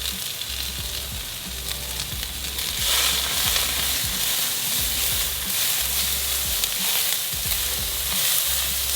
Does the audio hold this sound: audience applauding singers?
no